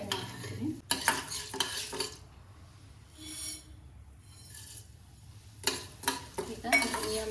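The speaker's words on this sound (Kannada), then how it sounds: "ಕಡಲೆಬೇಳೆ, ಉದ್ದಿನಬೇಳೆ ಎರಡನ್ನ ಸ್ವಲ್ಪ ಕಲರ್ ಚೇಂಜ್ ಆಗೋವರೆಗೆ ಎಣ್ಣೆಯೊಳಗೆ ಫ್ರೈ ಮಾಡ್ತೀನಿ." Chana dal and urad dal fry in oil in a pan, with soft sizzling under repeated stirring and metallic scraping and clinks of a utensil against the pan.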